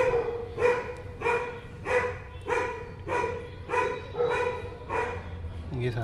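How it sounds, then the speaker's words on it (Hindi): Dogs barking in a steady, evenly spaced run of about eight loud, sharp barks at mid distance, ending with a brief low scrape. "ये साले कुत्ते यार"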